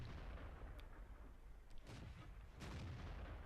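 Tank cannon fire in World of Tanks, with a T-34-85's 85mm gun in battle against a KV-1S: loud booming shots at about 2 and 2.6 seconds over a dense, steady rumble of battle noise.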